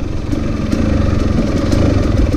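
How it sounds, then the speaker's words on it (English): A Husqvarna TX300 two-stroke motorcycle fitted with a Keihin PWK carburetor idles steadily and close by, a continuous low engine burble with light clatter and no revving. "this thing idles like nobody's business"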